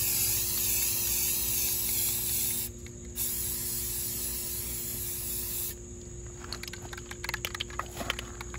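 Steady loud hiss of an aerosol spray paint can spraying unevenly, pausing briefly, then resuming with sputtering, uneven bursts toward the end, while camo painting a Geo Tracker.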